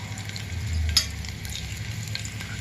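Curry leaves and tempering spices sizzle in hot oil with ginger pieces for a chickpea dish, a steady close crackle with a few sharper pops and light stirring, no voices.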